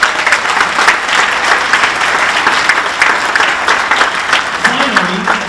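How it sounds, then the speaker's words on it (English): A large audience at a sports hall of fame induction ceremony gives a big, loud round of applause for a football coach, with dense, steady clapping and a voice briefly heard underneath near the end. "Let's give Coach Snyder a big round of applause"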